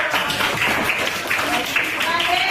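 A primary-school class breaks into applause for a presenting group, a steady wash of many hands clapping throughout, mixed with murmuring voices in the room.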